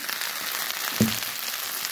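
Taro pieces frying in oil with onion, chilli and chicken give off a continuous close sizzle, broken once by a brief soft knock from a utensil.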